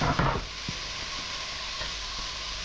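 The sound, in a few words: tomato and chili simmering in a pan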